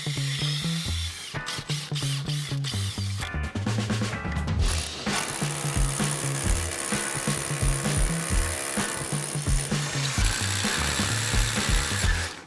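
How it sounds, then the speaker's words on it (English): A power drill bores through the brick wall of a garden, loud and close, with choppy grinding bursts that stop and restart before running steadily to the end, with no talk. "So we'll get the drill out, and wazam through the wall."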